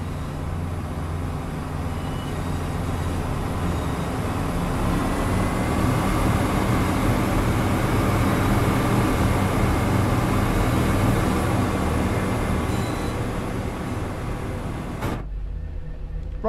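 A Class 171 train engine revs in the video game Train Sim World 4, a steady droning rumble that builds gently and then cuts off abruptly near the end.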